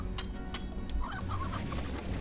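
Chicken clucking in the video game Slime Rancher, a few short sharp clucks followed by a quicker burst of chattering clucks, close and clear over a low background hum.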